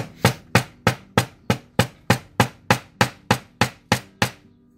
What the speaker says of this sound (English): You want to be very careful to not focus your hammering too much on those areas